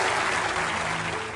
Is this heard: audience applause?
yes